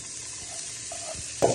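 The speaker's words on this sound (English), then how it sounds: "You just want to fry your onion, carrots and green beans for a few minutes." Onion, carrots and green beans fry in a pan with a soft, steady sizzle, and a brief clatter of stirring comes near the end.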